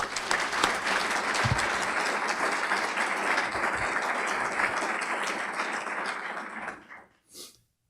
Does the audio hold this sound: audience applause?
yes